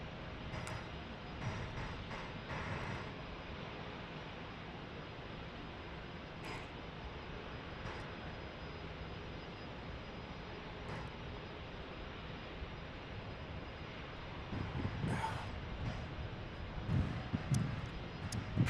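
An airplane approaching San Diego airport gives a faint, steady, distant engine rumble that holds for most of the stretch and swells slightly louder toward the end.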